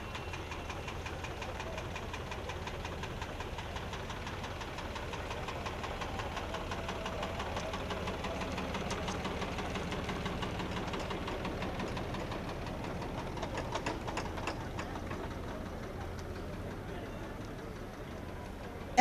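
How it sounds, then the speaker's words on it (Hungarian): An MTZ tractor pulling a trailer in a harvest parade rumbles past with a steady, knocking diesel idle, mid-distance and continuous, with faint crowd noise underneath. "MTZ következik pótkocsival."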